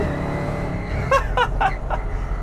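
An SCG Boot, a street-legal desert racer, pulls away under throttle with a loud, close engine roar and rumble, broken by a few short whooping cheers from someone aboard.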